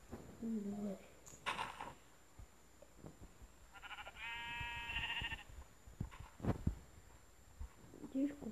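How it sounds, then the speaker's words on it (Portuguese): Several sheep bleats ring out at moderate distance, one long wavering call in the middle, with quiet rustling and a voice speaking between them. "Tive a impressão de uma ovelha de novo."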